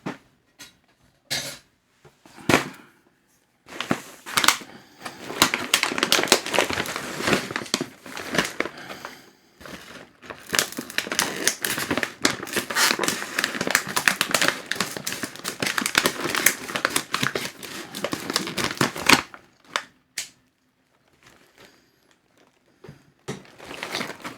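Scissors snip and crinkle through a plastic snack wrapper in a quiet indoor setting, close-up, with a long run of rustling and cutting noises broken by short pauses.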